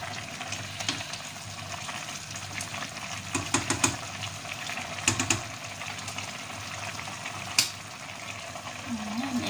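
Bihon rice noodles stirred as they cook in water in a pot, a steady wet bubbling and sloshing with a few scraping clinks, moderately close.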